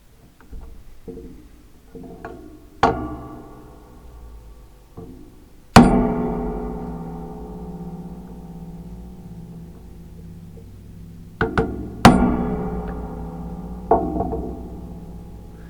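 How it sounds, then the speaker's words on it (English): A chisel is struck with a mallet to chop dovetail waste in wood for a salt box, giving several sharp, ringing knocks spaced irregularly between quiet pauses, close and without talk. "So I'm going to clear a little path for my chisel."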